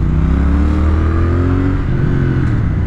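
Loud Triumph Thruxton R motorcycle engine running at high revs, about 6000 rpm, a steady strained whine with rising harmonics, close and continuous.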